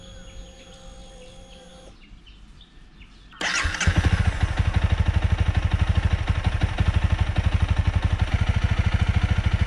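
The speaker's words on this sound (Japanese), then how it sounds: "レベル250のアイドリングは1400回転ぐらいです" After a few quiet seconds a Honda Rebel 250 motorcycle engine starts and settles into a steady, close idle around 1400 rpm with an even, rapid thumping rhythm.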